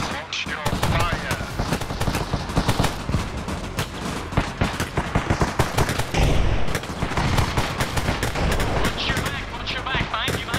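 Rapid bursts of automatic gunfire and single shots from an Arma Reforger firefight in a zombie outbreak mission, loud and dense throughout, with shouted voices mixed in.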